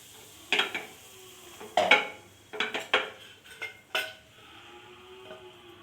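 Turmeric powder goes into oil in a pan for a dhaba-style egg gravy, with several sharp clinks and scrapes of a utensil against the pan over a quiet, faint sizzle.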